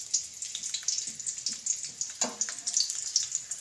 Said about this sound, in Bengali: এবার আমি তেলের মধ্যে রসুন কুচি দিয়ে দেবো